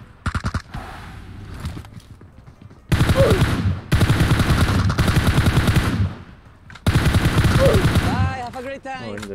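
Automatic gunfire in PUBG Mobile, with several long, loud bursts of rapid shots broken by short pauses, some single cracks early on, and a faint voice under the shooting.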